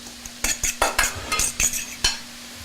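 Berries being mashed with a fork in a bowl, a run of about eight sharp scraping clinks in an irregular rhythm, close and clear with no voices.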